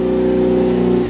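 Engine of a modified Honda Brio car idling in a loud, steady, throaty drone up close, with a slight dip at the end.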